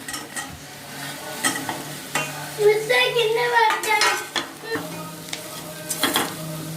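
Fried pieces of a vegetarian amaranth-leaf liver fry are stirred into sizzling masala, with a spoon scraping and clattering against the pan over a soft, continuous frying hiss.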